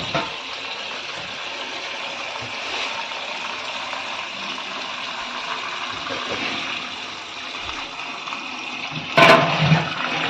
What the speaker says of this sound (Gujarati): ચાલો પાણી ભરશું